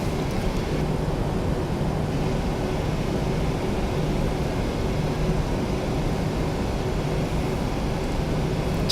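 A PMDG NGX Boeing 737 taxis in a flight simulator game, its engines giving a steady, loud broadband rumble with a constant low hum that holds unchanged throughout, with no voices.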